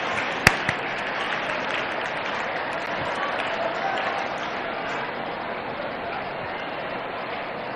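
A crowd at an iftar gathering in LB Stadium applauds in a steady, sustained wash of clapping, with one sharp knock near the start.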